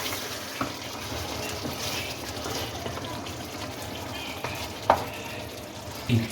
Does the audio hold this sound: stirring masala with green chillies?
yes